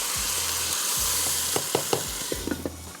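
Blended tomato with ginger and garlic sizzles steadily in a hot pan, a continuous frying hiss with a few soft clinks and scrapes of stirring toward the end.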